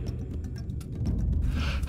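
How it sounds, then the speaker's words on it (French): During a kata exercise, a person draws in one breath. It is a soft, close inhale that rises near the end into a brief sharp gasp. "Inspirez."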